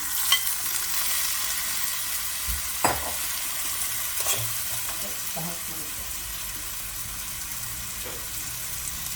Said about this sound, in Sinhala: ඔන්න අපි දැන් මේකට චිකන් ටික දාගන්නවා.